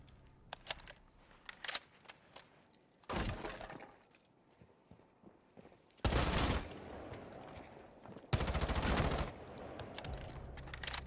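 Gunfire in Rainbow Six Siege: several short, loud bursts of shots spaced a few seconds apart, standing out above quieter game noise with faint scattered clicks between them.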